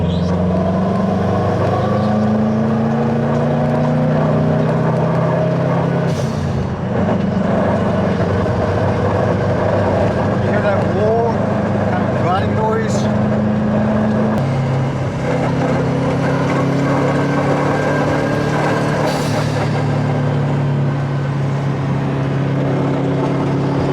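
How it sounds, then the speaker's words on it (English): Loud car engine droning steadily as the vehicle drives around, with shifting low rumble and occasional brief rises in pitch, close and continuous throughout. "The car's kind of loud, so I don't know if you're able to hear it or not."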